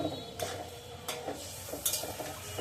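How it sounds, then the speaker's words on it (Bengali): A spatula stirs curry gravy in a pot, giving several separate scraping clinks against the metal at irregular intervals over a low background simmer, close by and with no talking. "এবার আমি একটু এই যে খুন্তির ইয়েটা দিয়ে একটু ভালোভাবে নেড়ে দিচ্ছি।"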